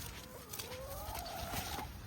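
Neighbours' chickens on an allotment clucking, a few soft rising clucks at moderate distance against quiet outdoor background.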